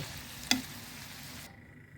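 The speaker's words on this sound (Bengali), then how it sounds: "মাঝে মাঝে এভাবে মেরে ছেড়ে দিচ্ছি আমার লাউগুলো" Sweet gourd pieces stir-frying in a pan for a lentil dish: a steady soft sizzle with one sharp clack of a spatula, quiet and close, with no talking.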